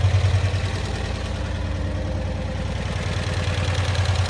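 A 1965 Cushman Truckster's OMC I-twin engine runs steadily nearby, a loud low rhythmic chugging idle with a pulsing, slightly uneven beat throughout.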